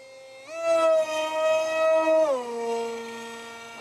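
An RCP F-18 V3 model jet with an RCT 2208 2600 Kv motor cruises at half throttle, giving a steady, loud electric whine that holds one pitch, then drops to a lower tone near the end.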